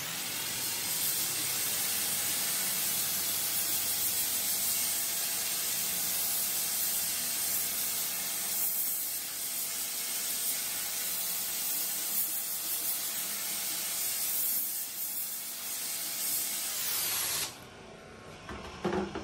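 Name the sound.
hot water pressure washer rinsing a wall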